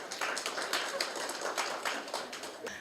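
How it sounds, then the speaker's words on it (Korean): An audience claps to welcome a speaker at a startup meetup talk, a steady patter of moderate applause from a small crowd lasting a few seconds, without talking. "박수로 맞아주십시오"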